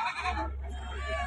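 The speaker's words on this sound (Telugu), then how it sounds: "మేకలు దండిగానే ఉన్నాయి." A goat bleats once, briefly and close by, at the Friday goat market in Banaganapalle, with crowd murmur behind it.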